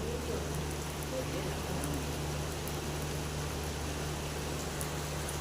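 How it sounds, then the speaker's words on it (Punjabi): Steady heavy rain hisses evenly throughout in Mamdot, Ferozepur district, Punjab, dense and constant, with a faint low hum underneath. "ਦੋ ਏਰੀਆ 'ਚ ਇਸ ਵੇਲੇ ਫੁੱਲ ਬਾਰਿਸ਼"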